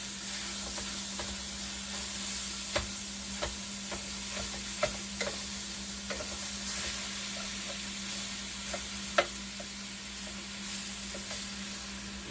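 Lean beef for goulash frying in a one-pot pan, a steady close hiss of sizzling broken by occasional sharp clicks and scrapes of stirring, with no voices.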